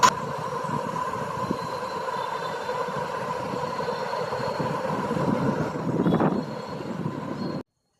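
Two trains rumble steadily past with a continuous rolling clatter and hum, swelling briefly louder near the end before cutting off abruptly.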